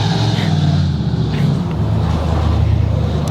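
An Infiniti G35 fitted with a Motordyne Thunder Pipe exhaust drives along a street, its engine a steady, loud, deep rumble with a low throaty drone heard from close by throughout.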